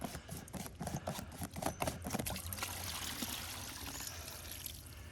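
Water pours and trickles steadily out of an opened outlet on a gravity-fed water system, a close, continuous splashing flow that starts after some handling knocks and then runs evenly.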